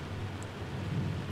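Steady rain with a low thunder rumble from the horror video game Go Home Annie, a dense, constant wash of rainfall that fills the short stretch with no voices.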